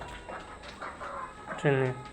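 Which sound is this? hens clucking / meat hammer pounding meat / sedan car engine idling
hens clucking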